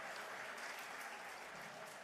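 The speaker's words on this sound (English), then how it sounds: "Let's give them a round of applause." Applause for newly elected officials at an Election Day gathering in East Tennessee: a dense, steady crowd clapping, fairly distant and sustained throughout.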